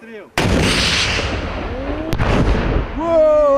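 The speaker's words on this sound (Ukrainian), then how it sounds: "заняття з тактики відпрацювання пострілу з РПГ, ручного протитанкового гранатомету" A single loud, sharp blast of an RPG anti-tank grenade launcher firing close by during a tactics exercise, its boom rolling and echoing away, with a voice briefly speaking afterward.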